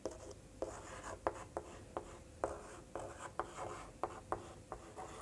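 Chalk or pen writing out a math formula on a board during a lesson on averages makes a close, rhythmic series of short scratchy strokes with brief pauses between them, and there is no talk.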